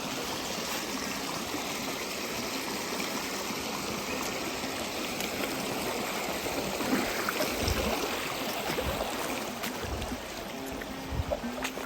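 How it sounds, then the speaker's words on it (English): A small creek flows steadily in the backcountry near Killarney and Norway Lakes, a constant close wash of running water with no voices. "So here's another little creek. Just walk right through it."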